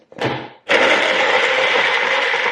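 A struggling blender blends a protein shake with powder stuck at the bottom, starting with a brief whir, a short pause, then a loud, steady roar for about two seconds; the old motor gives off a burning smell.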